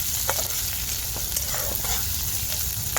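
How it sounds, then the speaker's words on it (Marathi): Finely chopped onion sautéing in a pan, a steady close sizzle with occasional soft scrapes of a spatula stirring, no talk. "तर आता मी कांदा परतून घेते"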